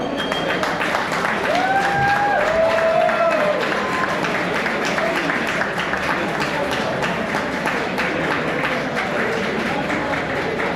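At an award ceremony, an audience gives steady applause for the recipient of the Eli Award, a dense continuous patter of clapping with a few voices heard over it.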